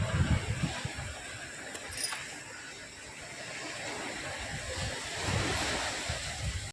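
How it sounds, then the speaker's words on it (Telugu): Strong wind roars during a rainstorm in Nizamabad, a steady broadband rush with gusting swells, heard alone without voices. "చాలా గాలి వస్తుంది"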